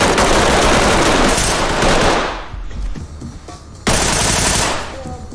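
Loud, dense automatic gunfire in the tactical shooter game Ready Or Not: a sustained rattling burst for about two seconds that trails off, a short lull, then another heavy burst. No talking.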